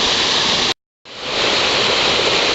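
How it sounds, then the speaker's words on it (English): Waterfall in a grotto at Flint Rock Creek, a loud, steady broadband rush of falling water, briefly cut to silence before resuming and building back to full strength. "In there is the grotto and the waterfall."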